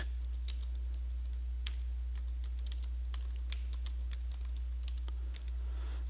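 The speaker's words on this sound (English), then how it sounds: "I'm having trouble typing here" Quick irregular clicks of fingers typing on a computer keyboard, close and clear over a steady low electrical hum, with no voices.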